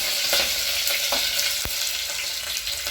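Mustard seeds and green chillies frying in hot oil, a bright close crackling sizzle with scattered pops and a couple of sharp taps from a utensil, no voices.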